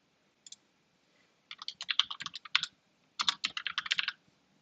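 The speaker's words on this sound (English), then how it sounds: "I got a new keyboard and I'm still figuring out the layout." Quick typing on a new computer keyboard, two brisk bursts of close, crisp key clicks separated by a short pause, quiet overall with no voices.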